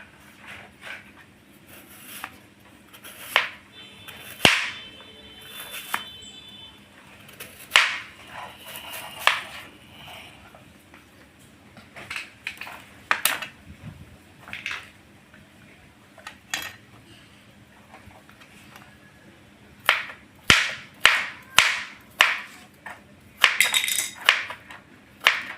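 Beetroot being finely chopped on a board, sharp irregular knife taps and clinks coming in bursts with pauses between, close and fairly loud over a low steady background hum.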